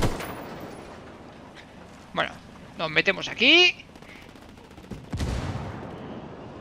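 Someone speaks briefly, then bursts of rapid Ghost Recon gunfire and sharp electronic shots ring out, followed by a loud thump and lingering noise.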